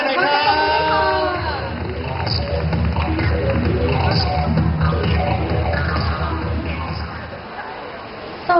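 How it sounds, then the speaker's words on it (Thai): A crowd applauds and cheers to welcome a young female singer onstage at a Thai live event, with steady clapping and whoops throughout and some talk over it. "เสียงปรบมือหน่อยครับ"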